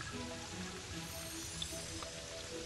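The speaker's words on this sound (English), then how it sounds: "Yep, it's raining." Steady, soft rainfall in the video game Terraria hisses evenly throughout, with a faint drip or two and no voices.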